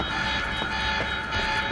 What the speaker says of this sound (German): Dieser Alarm wird es nicht einfacher für mich machen.